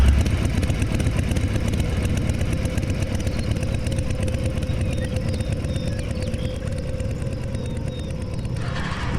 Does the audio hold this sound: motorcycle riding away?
yes